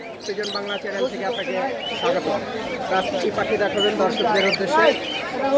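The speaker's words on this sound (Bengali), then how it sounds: "দর্শকদের জন্য আজকে ককাটিল পাখি নিয়ে এসেছি" Cockatiels and other caged birds chirping and tweeting busily at the Mirpur bird market in Dhaka, a dense chorus of calls running under close, steady conversation.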